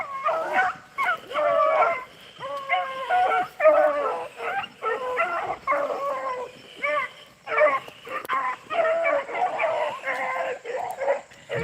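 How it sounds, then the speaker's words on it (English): Beagle hounds bay on a rabbit chase outdoors in the field, several dogs giving overlapping, rhythmic howling and barking cries that carry through nearly the whole stretch with short gaps, a voice faintly under them. "Pretty sure that was Bean that barked there"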